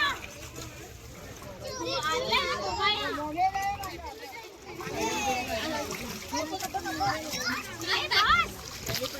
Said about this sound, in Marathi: बघा कसं मारली डुबकी